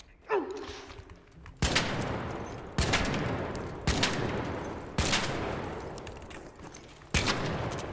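Five or six loud, sharp shotgun blasts from a PvP shooter game, spaced about a second apart, each ringing briefly, with a faint rising mechanical whir just before the first.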